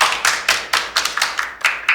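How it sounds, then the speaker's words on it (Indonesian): A small group claps hands at the close of a podcast episode, sharp, close claps landing in a loose irregular rhythm, about a dozen distinct strikes over two seconds with no voices. "Tepuk tangan untuk kita semua."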